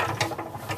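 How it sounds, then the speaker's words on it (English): A hand-cranked honey extractor spun vigorously to fling honey from the frames, giving a steady mechanical whirring with a faint rhythmic ratcheting pulse, fairly quiet and close, with no talking. "You spin it vigorously so that all the honey will shoot out of the frames and go into the extractor"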